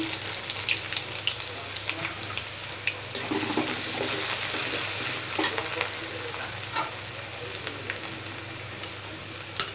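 Crushed garlic and chopped onion fry in a pan for a dried small-fish shutki dish, giving a bright, dense sizzle that runs steadily throughout with occasional stirring scrapes and light spatters.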